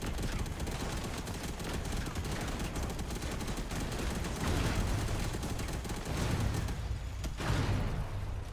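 Dense, continuous gunfire from robot-mounted weapons in the Robocraft online vehicle combat game. The volleys rattle steadily for several seconds with a few heavier surges, and no voice is heard over them.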